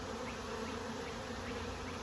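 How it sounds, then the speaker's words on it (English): Swarm of honey bees entering a hive box in a yard, a dense, continuous buzzing drone of many insects at close range, steady throughout with no voices. "you've all just witnessed me catching a swarm of bees in my yard"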